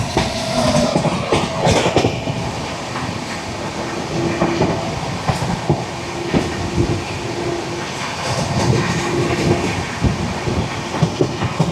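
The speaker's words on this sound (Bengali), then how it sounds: "একটা ট্রেন আসবে, এটা হচ্ছে সাঁতরাগাছি থেকে চারপল্লী স্পেশাল" The Santragachi–Charpali special, running six hours late, rolls past at close range in a loud, steady rumble of clattering wheels and carriages, with occasional squeals and no voices.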